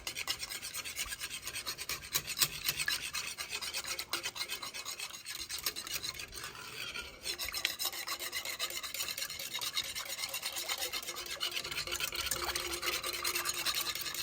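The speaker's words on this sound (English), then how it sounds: "Now I'm going to mix, mix, mix." A whisk works Alfredo sauce in a pan with a steady, brisk scraping and rasping that runs without pause at a moderate level. A brief dip comes partway through.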